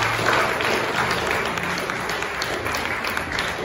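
Audience applause at a startup pitch competition for the three finalists, a full, steady round of clapping that is fairly loud throughout and slowly eases toward the end.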